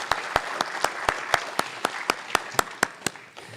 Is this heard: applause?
yes